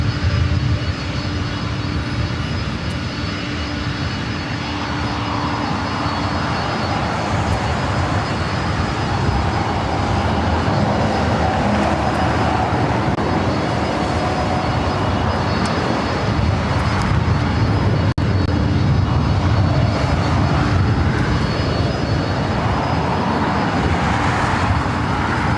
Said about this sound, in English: Our next arrival is Delta Airlines flight 2975, committed from Portland to Oregon, in the Northwest A320.